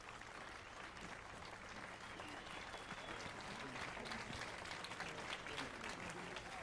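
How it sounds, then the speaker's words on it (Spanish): Steady applause from a crowd in the video game The Witcher 3, a continuous dense clatter of clapping heard faintly and at a distance. "Ahí está, todo el mundo aplaudiendo."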